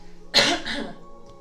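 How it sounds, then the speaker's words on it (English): A single sharp, close cough bursts out and fades over about half a second, with a quiet room behind it. "I need to cough."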